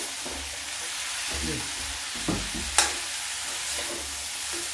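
Radish pods (sengri) fry in a pan with a steady, soft sizzle, broken by a few scraping stirs and a sharp clink of the spoon against the pan partway through.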